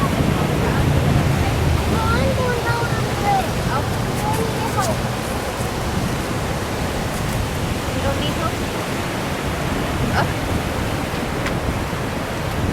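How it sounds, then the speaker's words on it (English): Ocean breakers wash continuously onto the shore at Makila Gulch on Maui, a steady broadband roar of surf that fills the scene without pause, with faint voices now and then under the water noise. "pretty soon the breakers will be on us"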